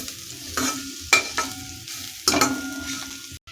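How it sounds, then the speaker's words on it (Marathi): Garlic and coconut being stir-fried over low heat for a Maharashtrian dish, heard as a close, continuous sizzle broken by a few sharp scraping bursts as the pan is stirred, with no talking. "लसूण आणि खोबरं थोडंसं लाल होईपर्यंत कमी गॅसवरतीच परतून घ्यायचं आहे"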